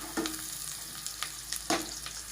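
Onions browning in a pan with ginger-garlic paste for a potato curry: a soft, steady sizzle with a few sharper scraping or stirring clicks, no one talking.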